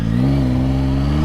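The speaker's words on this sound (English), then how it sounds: "someone wanted to know what it's like if you just pin it in first gear, so let's try that" A 2025 Yamaha Tracer 9 GT+ motorcycle pulls hard in first gear, a loud steady engine roar with a strong low rumble that climbs slightly in pitch over a second or so.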